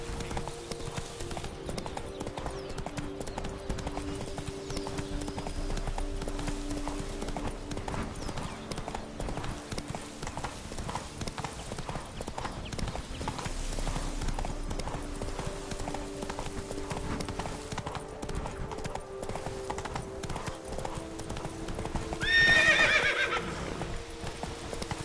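Roach, a horse in the video game The Witcher 3, gallops with a rapid steady clip-clop of hooves over a constant background hum, and a short whinny sounds near the end.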